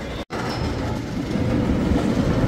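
An amusement park ghost train ride at Six Flags Discovery Kingdom rumbles and clatters along the track with a steady rolling drone, briefly dropping out, then growing slightly louder.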